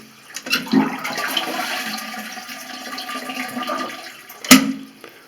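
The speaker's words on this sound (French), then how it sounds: "l'eau qu'il y a dans le réservoir, hein. On évacue tout ça" A toilet cistern emptied with a single flush during a WC membrane-seal repair: a sharp click, then a close, rushing gush of water that swirls for several seconds and ends with a second knock.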